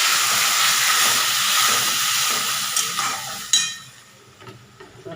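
Potatoes and spices frying in a pan give a loud, steady broadband sizzle that holds for about three seconds, then drops to a quieter crackle after a brief stir-like burst, with no talking.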